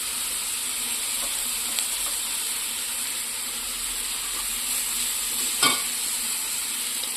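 Ginger and garlic added to onion and tomato frying in a pan, a steady close sizzle with faint stirring scrapes and a brief clatter near the end.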